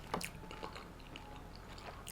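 Crunchy Halal Guys falafel is chewed close to the mouth, giving soft, quiet bites and crunches spread irregularly across a couple of seconds.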